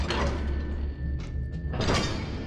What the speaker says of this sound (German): Wollen wir mal die Tür öffnen?